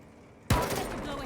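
A sudden loud burst of gunfire in a Rainbow Six Siege match, shooting through a wall, hits hard midway and then rings on as dense, crackling noise.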